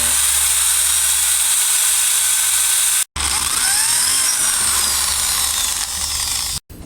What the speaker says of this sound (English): And I'm going to go ahead and drill right here for the inlet.